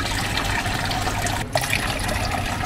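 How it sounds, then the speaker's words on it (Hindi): Water poured into an air cooler makes a continuous close splashing and gurgling stream that briefly breaks off and then resumes. "कूलर में पानी खत्म हो गया तो मुझे डालना पड़ेगा।"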